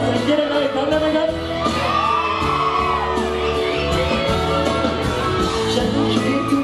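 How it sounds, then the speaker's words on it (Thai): A concert crowd cheers, whoops and shouts for a Thai singer, loud sustained roar with voices layered throughout and a speaking voice over the top. "ขอเสียงเชียร์ได้อีกครั้งได้ไหมครับ"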